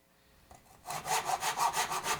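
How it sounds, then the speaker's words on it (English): A worn handsaw with bent teeth cutting through wood, close and clear: a faint tap, then a steady run of rhythmic rasping strokes, about eight back-and-forth passes, with no talk. "Cut it out with a handsaw"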